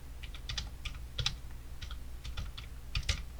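Someone types a new name on a computer keyboard, producing quiet, close, irregular clicks in small clusters with short gaps, with no one talking.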